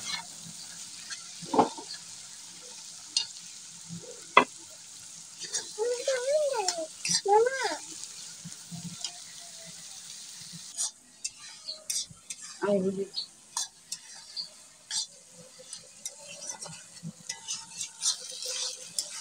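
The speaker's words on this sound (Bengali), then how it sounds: "তো শুটকি বাগারটি নেড়ে চেড়ে দিচ্ছি।" Dried fish (shutki) being stirred as it fries in a pan with stone-ground dried red chili paste: a steady low sizzle under repeated scraping strokes of a spoon against the pan, with faint voice-like sounds mixed in at moments.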